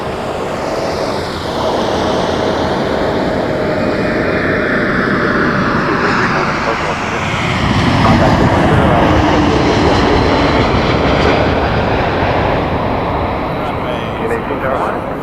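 An Embraer E195-E2 airliner comes in to land at Toronto Pearson Airport, its jet engines producing a loud, sustained roar that swells and shifts pitch as it nears, with radio voices talking over the noise.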